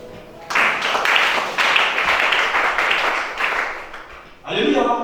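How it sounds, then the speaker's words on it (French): Applause and clapping from a church congregation during a French-language worship service, a dense sustained burst that stops briefly and then swells again near the end, with voices mixed in. "Acclamation"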